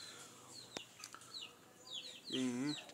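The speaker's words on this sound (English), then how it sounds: "See chicken them there." Chickens cluck softly at a distance during a slingshot hunt outdoors, with short scattered calls and a louder clucking burst near the end, and faint outdoor ambience around them.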